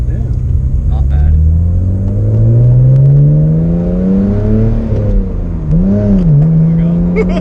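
BMW 128i engine pulling hard through the revs, rising harmonic drone climbing steadily then easing and surging again, loud and close from inside the cabin with people talking over it.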